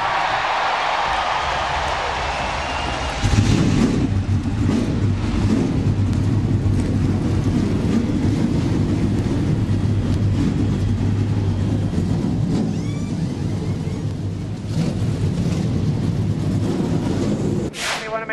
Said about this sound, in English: Drivers, start your dadgum engines.